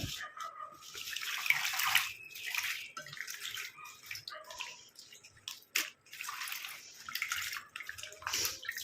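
Karpooravalli leaves are swished around by hand in a bowl of water, giving close, irregular sloshing and splashing in repeated bursts with short pauses between them.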